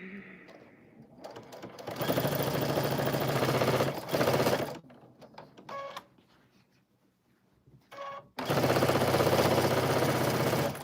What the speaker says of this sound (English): I'm going to just go ahead and top stitch it and call it a day